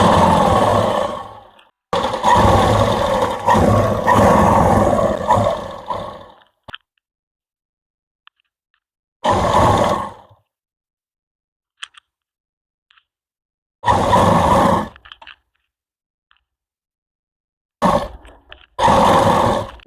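A sewing machine stitches palazzo pants in several loud, close bursts of whirring and clatter, with short silent pauses between the runs.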